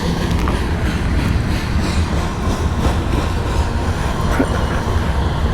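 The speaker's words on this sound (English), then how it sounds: "Oh, it's got a train." A train rumbling past close by, steady heavy roar with faint clickety-clack of wheels and occasional metallic squeals, no voices.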